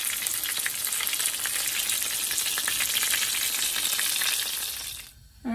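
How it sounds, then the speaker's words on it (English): King fish frying in oil in a pot for escovitch, a steady dense sizzle and crackle that runs close and loud for about five seconds, then cuts off abruptly near the end. "we're just gonna allow the bottom to fry for 3 minutes and then we're all done"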